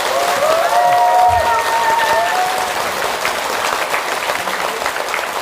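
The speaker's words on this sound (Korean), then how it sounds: "여러분들이 이렇게 큰 복을 지으신 거를 한번 감사의 박수를 한번 쳐주시면" Loud, sustained applause of thanks from an audience at a Buddhist lecture, a dense crowd of clapping with a voice briefly heard over it early on.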